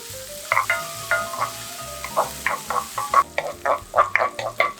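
Garlic, scallion and onion fry in a little reused frying oil over high heat in a hotel-style Chinese kitchen, with crackling, popping sizzle and recurring bursts of stirring clatter. Background music with low steady tones plays underneath.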